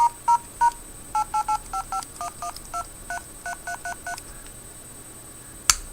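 A quick series of two-tone keypad beeps, about fifteen short evenly spaced presses, fairly loud and clean, ending with a brief click.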